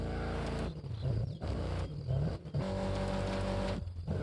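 A car engine in the video game Ghost Recon Breakpoint, loud and steady with repeated revving rises and dips as it accelerates and shifts, heard alone without talk.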